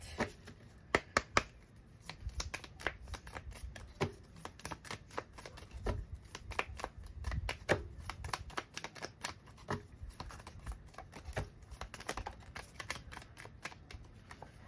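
Tarot cards shuffled by hand for a card reading, a long run of quick, crisp riffling snaps and soft flutters close to the listener, with no talk.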